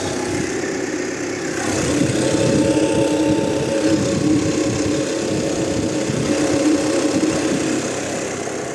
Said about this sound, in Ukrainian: Двигун працює ідеально.